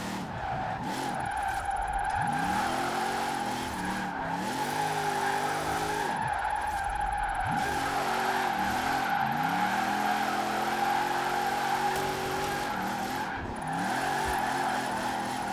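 Trophy truck drifting in Forza Horizon 4, its tires skidding and squealing in repeated swooping bursts over a constant engine drone, loud and close, with no voices.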